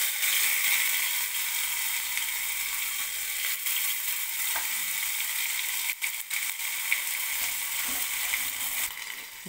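Crushed garlic and ginger frying in oil give a steady, moderately loud sizzle with occasional scraping and clicks from stirring, no voices.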